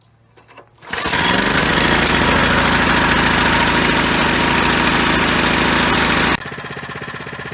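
A small lawn mower engine roars up after a short pull-start rattle, then runs at a steady, loud, rough idle with a slight drop near the end.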